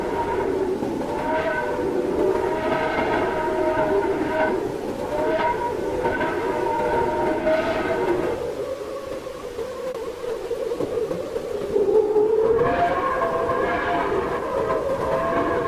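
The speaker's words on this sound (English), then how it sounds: "Now you hear the sound of this solar wind coming out of the sun." Solar wind data from NASA's Parker Solar Probe rendered as sound: wavering, whistle-like harmonic tones over a rumbling, hissy bed, swelling and dipping in a few long phrases with a brief quieter stretch midway.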